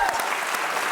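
A studio audience on The View bursts into loud, dense applause in a short burst, with voices mixed in.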